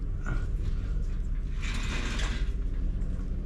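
Ratchet wrench loosening bolts on a Honda ADV 750 motorcycle, a quick close run of fine clicking pawl ticks heard alone.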